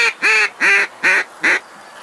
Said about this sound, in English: you need to use the greet call instead of the feed call. It sounds like this.